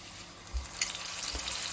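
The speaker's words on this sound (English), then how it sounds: "Carefully place steak into the hot pan." Dry-aged steak laid into a pan of hot oil gives a steady, close broadband sizzle, with a soft thump as the meat goes down and a brief sharper crackle just after, with no talking.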